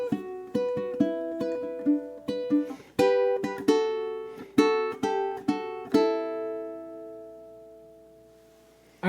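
Two ukuleles play the verse of a song as a duet, with bright plucked notes and ringing chords in a steady, unhurried rhythm that let ring out near the end, close and clear with no talking.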